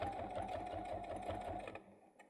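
A sewing machine stitches a connector onto a fabric bag, with a rapid, even mechanical whirring chatter held close for about two seconds before stopping.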